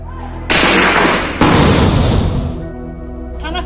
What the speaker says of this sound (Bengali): আবার গুলি করছে, আবার গুলি করছে